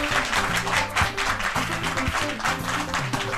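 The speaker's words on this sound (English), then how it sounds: "Round of applause for Sasha" Steady, even applause from the audience at a school mathematics championship for a first runner-up named Sasha, sustained throughout with music playing underneath.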